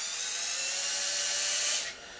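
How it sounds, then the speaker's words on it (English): A small Ryobi power drill spins continuously at high pitch while removing control horns from a crashed 40-size Bigstick model airplane, a steady whine that cuts off near the end with no talking. "This little Ryobi drill is great."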